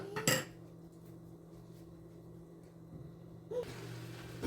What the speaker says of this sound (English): I'm gonna go ahead and turn the rice because I don't want to leave it sit for it to burn